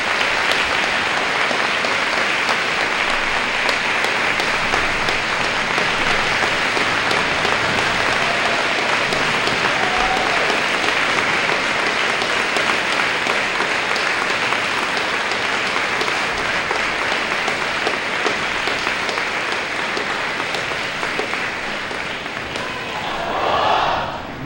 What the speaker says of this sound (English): So give all our veterans that sit up in the front a round of applause.